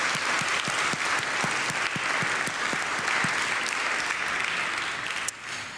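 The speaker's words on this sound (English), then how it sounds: "I really want a big applause for all of you for being here tonight" Audience at a high school band and choir concert applauding loudly, dense sustained clapping with some individual sharp claps standing out, easing slightly near the end, with no talking.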